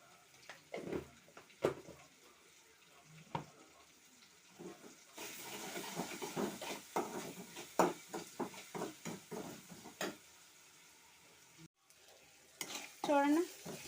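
A spoon stirs green chillies, onion, seasoning, ginger-garlic paste, turmeric and salt into okra frying in a pan, giving scattered scraping clicks and knocks over a soft, steady sizzle, close and fairly quiet.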